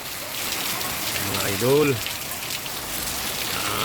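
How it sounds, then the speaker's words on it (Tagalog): Heavy rain from Typhoon Opong pours steadily onto surfaces, a loud continuous hiss throughout, while someone speaks briefly over it. "ang lakas ng ulan"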